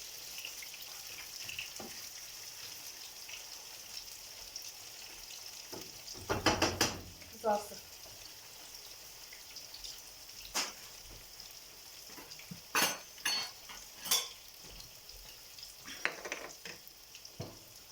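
Quiet continuous sizzling of liver frying in a pan, with scattered clinks and scraping of stirring.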